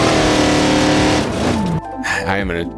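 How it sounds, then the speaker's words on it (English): A loud off-road crawler engine in BeamNG.drive roars and revs, its pitch sweeping up and down, while a person talks over it. "It's hard to talk with how loud this engine is though."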